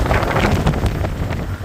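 Strong wind gusts roar across a sailboat at sea in force-20 wind, a loud broadband rush buffeting close to the microphone, continuous and unbroken for under two seconds.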